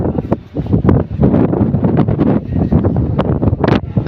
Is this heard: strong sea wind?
yes